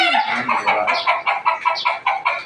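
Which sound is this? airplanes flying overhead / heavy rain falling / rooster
rooster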